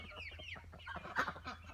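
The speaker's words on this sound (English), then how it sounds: "Right there is 10 black Australorps" Several black Australorp hens on a small homestead, a flock of about ten, clucking and murmuring close by in a steady overlapping chatter with one louder call near the middle.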